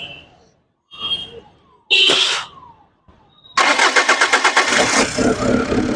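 A 2016 Tata Indigo eCS LX diesel car with engine knocking and hunting faults cranks and fires up, then settles into a loud, steady, pulsing idle close by, after brief voices and workshop noises.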